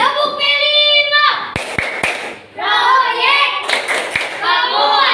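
A group of schoolchildren in an Indonesian classroom doing a clapping game, sharp rhythmic claps in a short burst between stretches of chanted speech, loud and close.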